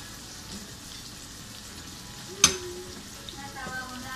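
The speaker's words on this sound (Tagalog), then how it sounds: "Magigisa na tayo ng ating mushroom. So, lagyan natin siya ng olive oil again." Mushrooms sautéing in olive oil in a pan give a steady soft sizzle throughout, close and fairly quiet, with a single sharp clink of a utensil midway and faint background sounds.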